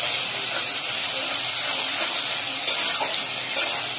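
Garlic and ginger spice paste sizzles steadily in a hot pan, a close, continuous bright hiss with faint stirring scrapes.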